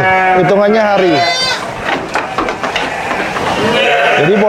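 Newborn lambs bleating in a lamb care pen at a large sheep and goat farm in West Java, loud close wavering bleats at the start and end with pen noise between.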